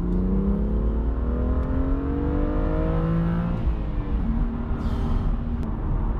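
A BMW M2 engine revs loudly and steadily up close, its rising and falling harmonic tones sweeping through repeated acceleration pulls with no talk over it.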